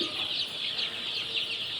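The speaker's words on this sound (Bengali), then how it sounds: "এই পাশে এটা হচ্ছে যে টাইগার মুরগি ব্রুডিং করা আছে" Tiger breed chickens in a brooding pen on a farm give soft, continuous clucking and cheeping, faint and steady with no talk.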